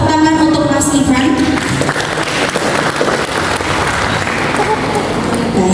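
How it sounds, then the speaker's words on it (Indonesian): Audience at a workplace productivity training session run by a labour department applauds, producing a loud, dense, steady wash of clapping that fills the room for several seconds, with a voice briefly audible at the start. "boleh saya minta tepuk tangan untuk Mas Ivan."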